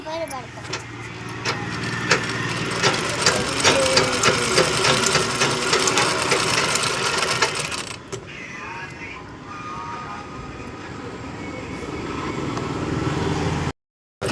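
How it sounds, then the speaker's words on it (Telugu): An electric sewing machine runs steadily, stitching a fall onto a saree, with a busy mechanical whir and rattle for about eight seconds before slowing and fading to quieter room sound. It is close and loud. "ఫాల్స్ స్టిచ్చింగ్ చేస్తున్నానండి కరెంట్ ఉందంట వాళ్ళకి శారీకి ఫాల్స్ వేస్తున్నానండి"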